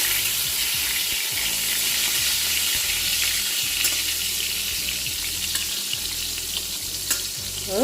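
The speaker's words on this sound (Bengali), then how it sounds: "বেগুনটা ভাজতে বসিয়ে দিয়েছি" Eggplant frying under a lid in a covered pan on a home kitchen stove, giving a steady, loud sizzle with faint crackles and small clinks throughout, with no voices.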